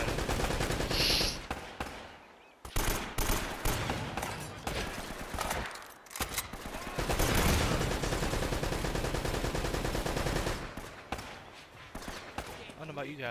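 Bursts of rapid gunfire and explosive shots crackle repeatedly, with brief pauses, over a dense game soundscape in Uncharted: Drake's Fortune; a voice speaks intermittently underneath.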